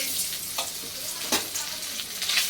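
Fish frying in hot oil in a wok, a close, loud, continuous crackling sizzle with occasional sharper spits and pops throughout, no talk.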